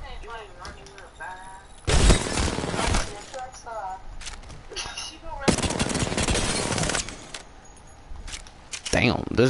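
Automatic weapon fire rattles in Apex Legends, two long loud sustained bursts with shorter shots between, close and heavy, while players talk over the action.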